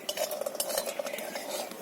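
Fried lentil bori lifted from a pan of hot oil with a metal utensil, giving close, quick scraping and clinking taps against the pan over a faint oil sizzle, with no voices.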